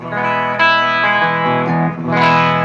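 Electric guitar played through an Ibanez PT-5 multi-effects pedal on its clean setting with delay and reverb, amp on clean: sustained chords and ringing notes with a washy reverb tail, loud and close, no talking.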